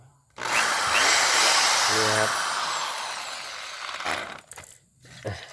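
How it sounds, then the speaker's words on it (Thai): An electric drill runs with a steady high whine for about four seconds, then stops and gives a few short bursts at the end, close and loud with no voices. "สว่านนะครับ"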